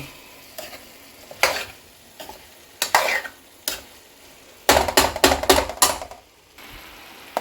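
Mixed vegetable curry of beans, capsicum and potato being stirred in a pan, with a run of scraping, clattering spoon strokes against the metal, sparse at first and then quick and dense, over a soft sizzle.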